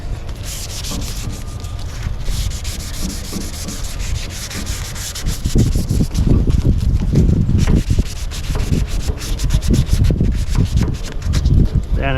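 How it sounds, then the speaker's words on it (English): Car paint clear coat is scuffed by hand with an abrasive pad, producing close, loud, rhythmic rubbing strokes that grow stronger partway through, with no talking. "All we want to do is scuff this clear up."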